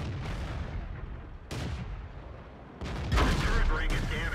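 Tank cannon firing high-explosive shells in World of Tanks during a T110E3 match, heavy booms around 1.5, 2.8 and 3.2 seconds over constant game rumble, with someone talking throughout.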